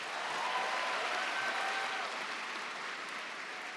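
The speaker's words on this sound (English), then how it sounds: "Let's give them a round of applause." An audience at a graduation celebration applauds, a faint, distant and even wash of clapping lasting a few seconds.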